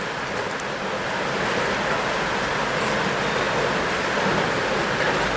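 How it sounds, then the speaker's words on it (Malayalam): Heavy rain falling outdoors during seedling planting, a dense, steady broadband roar that holds constant and fairly loud throughout with no talking. "മഴയാണ് കേട്ടോ, ഭയങ്കര മഴയാണ്"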